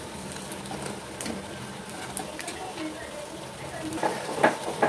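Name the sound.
green chilli and black cumin tempering sizzling in hot oil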